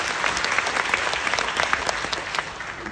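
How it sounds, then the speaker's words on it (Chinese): An audience at a company presentation breaks into steady applause, dense clapping sustained for a few seconds, loud and close. "需要给Vivi一个掌声"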